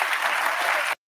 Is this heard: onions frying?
no